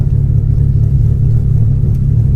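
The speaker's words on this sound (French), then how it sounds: "C'est surtout parce que le moteur il fait des secousses." A Ford XR3i cabriolet engine running rough while driving, with a leaking exhaust manifold gasket, gives a steady loud low rumble and drone throughout with no talk.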